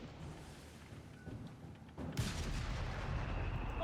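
Grenadier infantry firing in the strategy game Company of Heroes, a dull thump followed by a sharp burst of gunfire that swells into a noisy rumbling volley.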